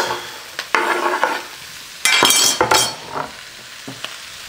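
Vegetables and mushrooms are stirred in a hot pan while sautéing for osso buco, with bursts of sizzling and scraping and a few utensil clinks, close and loud.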